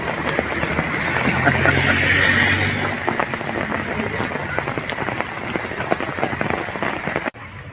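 Steady rain falls in a dense, even hiss that holds for several seconds and then cuts off abruptly near the end.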